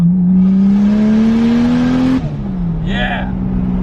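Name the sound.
Toyota Chaser drift car engine revving and accelerating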